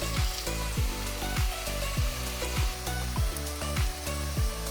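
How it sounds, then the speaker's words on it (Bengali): Two medium onions, thinly sliced, sizzle in hot oil in a pan over a medium gas flame, a steady frying hiss broken by regular clanks of a spatula stirring them. "এবার দিয়ে দিচ্ছি পাতলা পাতলা করে কেটে নেওয়া 2টো মাঝারি মাপের পেঁয়াজ"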